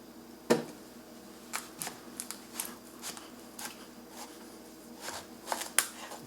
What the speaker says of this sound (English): I'm going to have to cut it in half down the middle